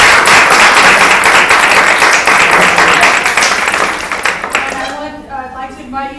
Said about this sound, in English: I want to give one more round of applause to our amazing science scholar presenters today.